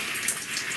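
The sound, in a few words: water running while rinsing out hair product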